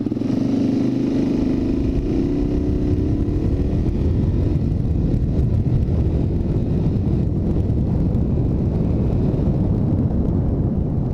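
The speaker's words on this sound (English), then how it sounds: "I do like the little thumper sound of the single cylinder." A Suzuki DRZ400 single-cylinder motorcycle engine rumbles loudly and continuously while riding, its low, throbbing thump mixed with heavy wind buffeting on the microphone.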